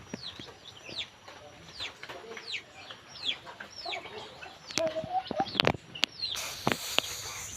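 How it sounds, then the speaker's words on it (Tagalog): Chickens clucking in short, scattered bursts at close to moderate distance, with occasional thumps and faint background voices. "Kita mo na yung manok guys"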